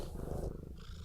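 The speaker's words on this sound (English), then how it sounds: "Oh my gosh, you're actually purring." A cat purrs close by in a steady, low rumbling rhythm, loud and continuous, with no talking over it.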